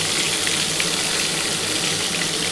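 Pieces of katla fish fry together in hot oil, giving a steady, dense sizzle and crackle that holds at an even level throughout with no talking.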